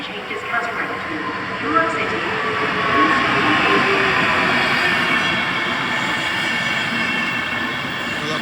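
An Intercity Berlin–Warszawa Express train rolls through Warszawa Zachodnia station, a steady loud rumble of wheels and carriages that swells slightly and holds throughout, with broadband rail noise and no speech.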